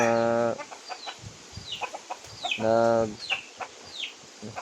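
Wild junglefowl (labuyo) clucking and calling outdoors, with several short bursts of bird calls and chirps at moderate distance over a faint rustling background.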